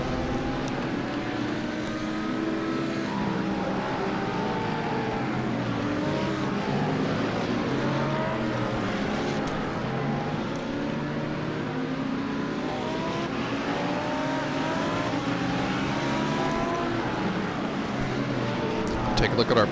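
Several race cars in a racing video game roll off together for the pace lap at Watkins Glen, a continuous layered engine drone with shifting pitches that holds steady and fairly loud throughout.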